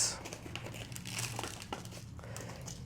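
A plastic bag used for starting seeds rustles and crinkles as it is handled up close, with soft irregular crackles and no speech.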